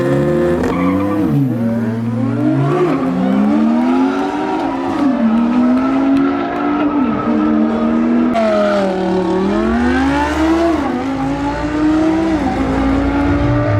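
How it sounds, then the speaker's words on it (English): Supercars rev and accelerate hard in drag races, engine pitch climbing and dropping repeatedly, with tire squeal mixed in; loud and close, no talking. "All the supercar drag races have started"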